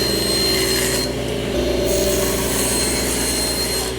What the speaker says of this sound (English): we can start cutting wood to make this box.